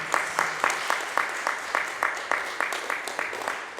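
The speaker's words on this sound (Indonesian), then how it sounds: "Tepuk tangan dong untuk Tuhan dong." A church congregation at a Sunday worship service claps together in a steady, even rhythm, about four claps per second, filling a large room with bright, uniform clapping.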